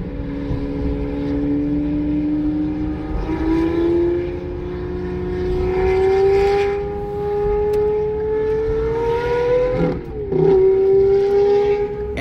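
A Lamborghini's engine drones and rises steadily in pitch as the car accelerates nearby, dips briefly near the end, then picks up again, loud and continuous with no voices.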